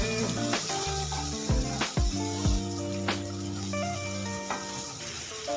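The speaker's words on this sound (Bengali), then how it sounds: "এইবার এর মধ্যে দিয়ে দেবো আগে থেকে আমি বেসনটা যে বাঁচিয়ে রেখেছিলাম, দিয়ে দিলাম। মশলার সাথে ভেজে নিলাম।" Gram flour frying with spices in a pan for a soybean kofta curry, a steady sizzle broken by a few sharp clinks and scrapes of a spoon against the pan, close by with no talking.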